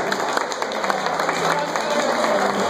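A crowd applauding, dense steady clapping that holds throughout at a moderate level.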